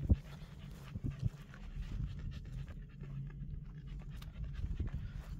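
A dog pants close by in an open field with cows nearby, its quick, steady breaths running continuously with a few small rustles in the background.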